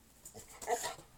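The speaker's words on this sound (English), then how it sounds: "My dog is really going at it." A dog lets out a quick run of close, whining yips and whimpers over about a second, rising in the middle before trailing off.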